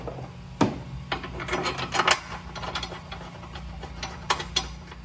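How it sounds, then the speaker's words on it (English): Steel brace bolts being threaded in by hand under a Fiat 500 Abarth, with scattered light metallic scrapes, rubs and small clicks over a low steady hum, close and fairly quiet, no talking. "You screw them in with your fingers."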